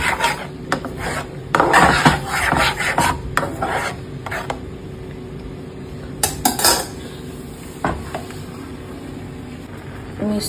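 Metal spoon scraping and clinking against a cooking pot as a milk mixture is stirred, irregular rasping strokes and sharp taps with pauses between.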